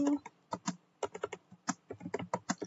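Quick, irregular clicks of computer keyboard typing while entering an IPv6 address during a Cisco routing exercise, close and fairly clear, with a faint voice mixed in.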